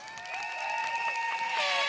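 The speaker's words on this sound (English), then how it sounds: "Let's give them all a round of applause." Applause from a crowd at a People's Action Party election rally for Sengkang GRC, held outdoors at North Vista Secondary School. The clapping is steady and sustained, with tonal sounds running over it that swell near the end.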